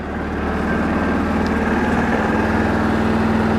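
A 2002 Yamaha Kodiak 400 ATV engine runs at a steady, loud, rumbling idle just after firing up, close by with no talk.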